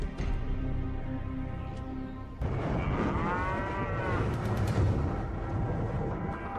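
Cattle mooing in a remote pasture north of Phoenix, Arizona: a long low moo, then another drawn-out bellow from a cow close by, with no talking.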